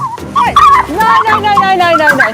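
A small dog named Pixie yelps and screams on a walk in a shrill, wavering, rising and falling cry, loud and close and almost nonstop.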